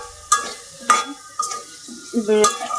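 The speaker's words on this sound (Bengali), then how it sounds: "আলুগুলা দিয়ে দিলাম আলুগুলা এখন ভালোভাবে কষান" Cut potatoes are sautéed in a hot pan, with a steady sizzle broken by several distinct scraping stir strokes from a spatula, heard close and loud.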